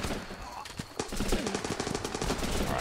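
Rapid rifle fire in the video game Running with Rifles, a close burst of quick gunshots in a steady rhythm following an isolated shot, over a constant background of battle ambience.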